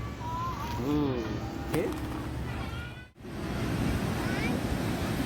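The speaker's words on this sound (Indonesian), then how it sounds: "kita sudah memasuki pantai laut selatan" Surf rolls steadily onto a beach on the southern sea coast at Pelabuhan Ratu, Sukabumi, with a constant wash of waves and wind buffeting the microphone, while a person talks over it.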